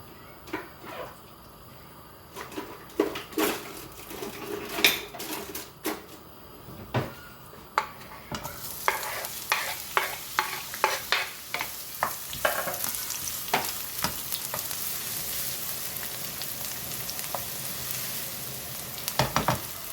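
Chopped onion, garlic and parsley frying in oil in a pot, first with sparse clinks and scrapes of a ladle, then a fuller sizzle as stirring quickens into dense, irregular scraping and knocking against the pot.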